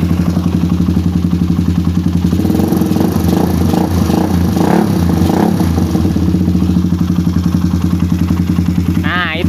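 A motorcycle engine fitted with a PWK carburetor and J6ZG needle idles with a close, loud, steady rhythmic thump, revving briefly mid-way before settling back to its even putter.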